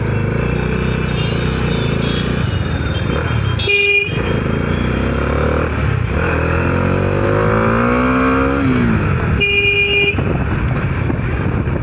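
A Bajaj Dominar 400 motorcycle rides through night traffic in Varanasi, its engine droning and revving steadily up close, with several loud horn toots from surrounding vehicles.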